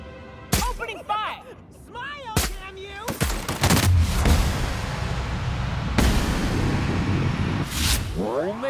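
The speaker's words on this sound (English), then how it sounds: "Opening fire!" Gunfire in The Outer Worlds video game: a string of sharp loud shots, the first few spaced apart and then a dense, sustained burst, with voices and game sounds in between.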